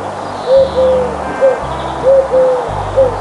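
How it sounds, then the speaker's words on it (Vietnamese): Eagle calls sounding as a series of thin, whistled hoots, about six short repeated notes spaced irregularly, fairly close and clear over a low background hum, with no talking. "Chim đại bàng."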